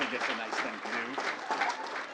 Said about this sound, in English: let's give our National Merit semifinalists one final round of applause